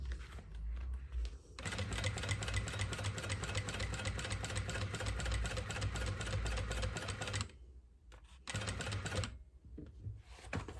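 A walking-foot double-transport sewing machine stitching in a fast, steady mechanical rattle up close, running for several seconds, stopping briefly, then starting again in shorter bursts.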